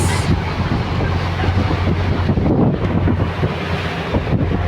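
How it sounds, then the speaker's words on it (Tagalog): Rough, choppy sea off Santorini during a tender transfer, heavy wind buffeting the microphone over a constant rushing wash of waves and a low boat rumble, loud and close with no talking. "Ito na yung buhay ng Santorini sa tendering pag maalon."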